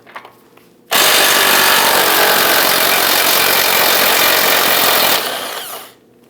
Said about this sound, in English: Let's go ahead and loosen and remove this nut.